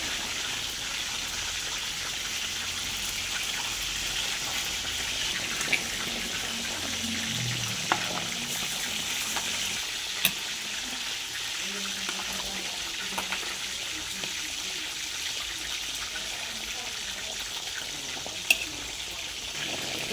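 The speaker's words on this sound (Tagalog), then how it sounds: "Ilagay na natin guys ang cornstarch na tinunaw sa tubig." A cornstarch slurry is poured into steamed chicken in a pan and stirred, producing a continuous soft sizzle and bubbling with a few sharp utensil clinks scattered through it.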